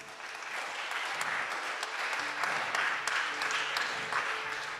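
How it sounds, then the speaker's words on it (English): Audience at a World War II heritage conference applauding steadily, a moderate, even patter of many hands held for several seconds with faint murmurs underneath. "So applause for them."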